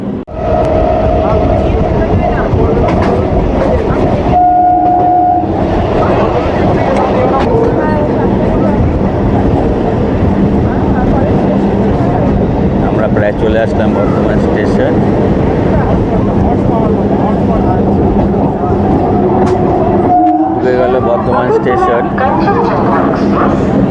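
A local train runs toward Bolpur Santiniketan, its continuous loud rumble and rattle filling the carriage while someone talks over it throughout.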